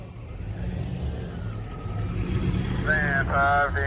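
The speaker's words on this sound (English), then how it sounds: "This is a Wolo 345 ice cream truck." A new Wolo 345 ice cream truck at a Thompson Lane railroad crossing gives off a steady engine rumble that builds slightly. Short, repeated tonal bursts ring out near the end.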